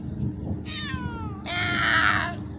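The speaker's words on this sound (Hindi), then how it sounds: "बिल्ली" A cat gives two drawn-out meows, the second longer and louder, close by over low background murmur.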